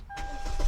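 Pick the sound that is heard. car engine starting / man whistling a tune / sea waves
car engine starting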